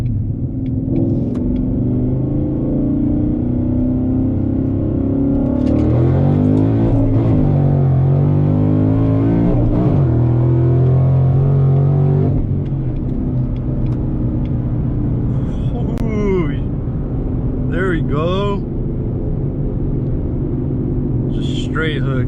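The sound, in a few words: 2018 Ford Mustang GT first gear pull, Mickey Thompson ET Street tires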